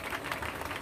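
Clapping from a live audience at a Bahujan community gathering celebrating women and social reformers, a brief burst of scattered applause at moderate distance.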